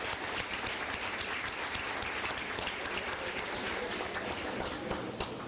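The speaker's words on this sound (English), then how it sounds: "let's give those guys a round of applause." Sustained applause from a crowd at a high school sports banquet, dense and steady clapping filling the room at even loudness throughout.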